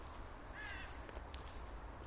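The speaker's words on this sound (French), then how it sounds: "à part des corbeaux de merde qu'on entend" Crows cawing in a forest during the day, a few harsh calls rising over a steady outdoor background with faint rustling, moderately distant.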